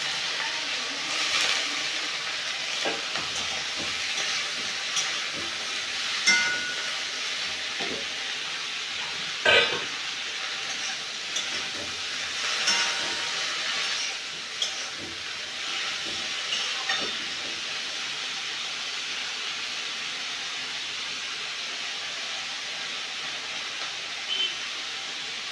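Shrimp and amaranth stems sizzle in a pan with a continuous hiss, punctuated by a few sharper crackles and pops, close and alone without talk.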